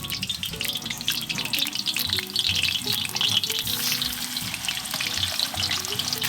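Pieces of lamb frying in hot oil inside a kazan for Uzbek plov, a steady loud sizzle and crackle that runs without a break, with some faint stirring and clatter beneath.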